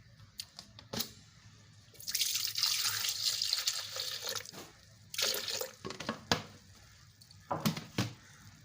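Milk poured into a blender for a mango milkshake, a liquid splashing and gurgling in two or three bursts of a couple of seconds each, close and moderately loud, with small clicks and knocks between them and no talking.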